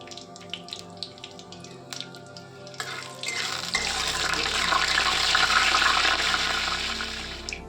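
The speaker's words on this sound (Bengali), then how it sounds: "ওই তেলেই একটা শুকনো লঙ্কা, একটা তেজপাতা, আর অল্প পরিমাণ পাঁচফোড়ন দিয়ে দিচ্ছি।" Dried chilli, a bay leaf and a little panch phoron drop into hot oil in a kadai and burst into a loud, bright sizzle that keeps going after a few soft clinks at the start.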